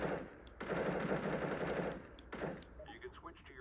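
Automatic rifle fire in Counter-Strike: Global Offensive comes in close, rapid bursts: a short one, then a long rattling stream, then a brief final burst, followed by lighter in-game sounds.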